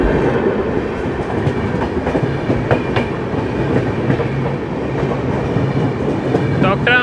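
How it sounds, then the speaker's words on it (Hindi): A train pulls into a busy Indian railway station, loud rolling rumble with repeated clickety-clack wheel beats and scattered squeals over the whole stretch. "यहाँ कोई कैंट अराइव कर रही है।"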